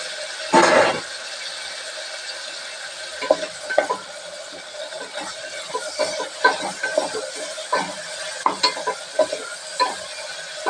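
Tomatoes frying in a pan for chamagada pulusu sizzle steadily, with a loud clatter early on and a run of spoon scrapes and stirring knocks over the hiss. No one speaks.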